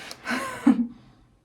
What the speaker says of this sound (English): now I think I'm just sniffing the wax.